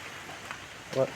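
Rain falls steadily on an evening flower garden of roses and flowering plants, a soft, even patter with one brief, slightly louder splash near the end.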